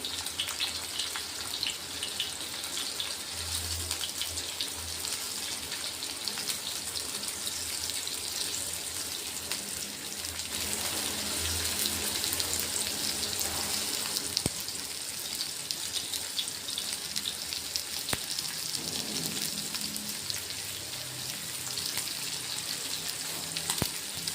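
Pomfret fish frying in a pan: a steady, even hiss and sizzle of hot oil carries through the whole stretch, with a few faint clinks and low bumps from the pan and no talking.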